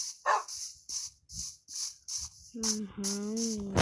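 In Minecraft, a dog barks sharply over and over, roughly twice a second, close by, ending with a drawn-out whining tone.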